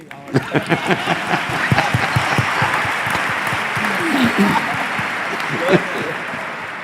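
An audience at a pastors' panel during a church congress claps, starting with a few distinct claps that build into steady, fairly close applause and then fade out.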